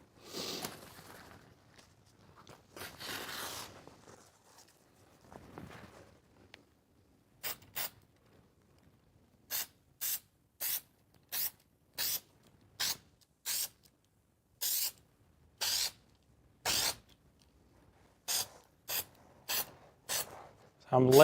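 A spray gun lays adhesive while upholstering the front columns of a Ford Transit van: about a dozen short, sharp hissing bursts in an irregular rhythm, close by, after a stretch of quieter rubbing and handling noise.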